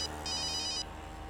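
A phone ringing with an incoming call, a bright electronic ringtone with a short repeated trill that sounds once clearly and then stops, with no talk.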